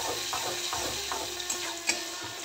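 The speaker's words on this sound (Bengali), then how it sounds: "প্রথমে টমেটো, আদা, কাঁচা লঙ্কার পেস্টটা দিয়ে দিলাম এবং এটা তেল ছাড়া পর্যন্ত পেস্টটা নাড়াচাড়া করব" Tomato, ginger and green chili paste sizzles in hot oil while a spoon stirs it, soft scraping strokes repeating every half second or so over a steady low fry.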